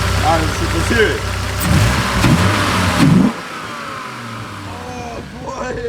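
Loud, close revving from a Dodge Viper RT/10 V10, a few rising throttle blips followed by a drop to a lower idle rumble, with voices talking alongside.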